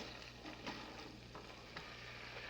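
Chopped shallots or green onions fry in a hot pan with a steady, close sizzle throughout while a spoon stirs them, adding a few soft scraping accents.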